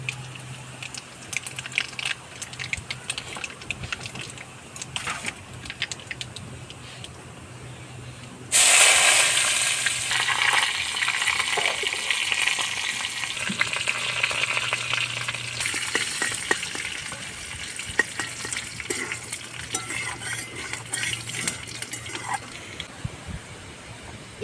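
Nigella seeds and chopped onion drop into hot oil left from frying fish, erupting into a loud, steady sizzle that holds on and then eases slightly, close by with no talking.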